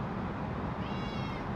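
A pet cat lets out a brief meow over a loud, constant rumble of background noise.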